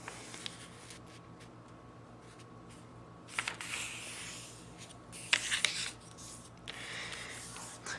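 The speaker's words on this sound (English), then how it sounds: "we're going to grab a regular sheet of copy paper, and we're going to fold that right in half." A regular sheet of copy paper is folded in half, giving soft, close rustling and sliding with a few sharper crisp creasing swipes partway through, quiet and with no talking.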